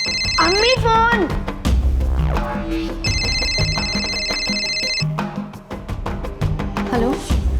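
A telephone rings in repeated electronic bursts amid the drama sound of the Hindi TV crime series Crime Patrol, with music and someone speaking in Hindi around the rings.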